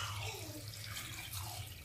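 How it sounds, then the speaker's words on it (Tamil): Steady rushing water runs continuously as it is poured into a pot, with a low hum underneath and no talking. "தண்ணி எடுத்து ஊற்று."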